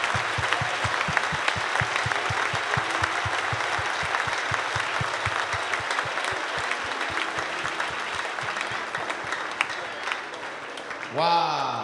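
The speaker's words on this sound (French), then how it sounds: "Let's give the Lord a hand clap" A church congregation claps hands together in praise of the Lord, with a steady rhythmic clapping that fills the room under constant singing and voices and fades near the end.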